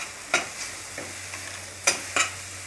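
Spices are stirred in a pan for a sprouted moong curry. A few distinct spoon scrapes, two close together near the end, sound over a faint, low sizzle in an otherwise quiet kitchen.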